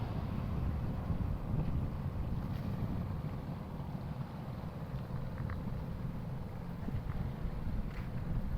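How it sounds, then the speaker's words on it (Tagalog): Steady sea breeze rushes across open water, a low broad roar with buffeting on the microphone and faint boat and wave sounds beneath. "Sarap ng simoy ng hangin."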